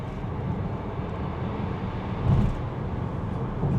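A Renault Scenic electric car accelerates hard in sport mode, giving a steady low cabin rumble that swells as it speeds up, with a soft synthetic whoosh piped in to mimic engine intake.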